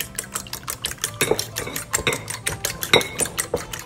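Eggs with a pinch of salt being whisked in a bowl, a rapid, close run of clicking, tapping strokes against the bowl in an uneven rhythm, with no talking.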